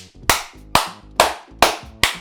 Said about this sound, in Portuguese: E olha só, palmas!